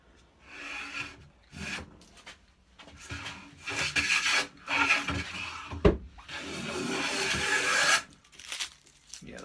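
A Stanley No 7 jointer plane takes hefty shavings along a long piece of wood, giving repeated loud rasping strokes of about a second each with short pauses between them. The final stroke is the longest, and no one speaks.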